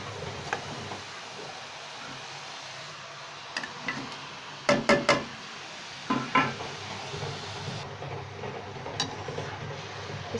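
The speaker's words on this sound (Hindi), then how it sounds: "तो अब मैं इसमें चिकन डाल दूंगी" Chicken pieces dropped into a pot of softened tomatoes with ginger and garlic for yakhni, giving a few sharp clattering knocks and a brief sizzle mid-clip over a steady low cooking hiss.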